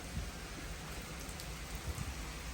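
Heavy rain falling in London, a steady dense hiss of rain on surfaces with a few low thumps of drops, continuous and fairly close with no voices.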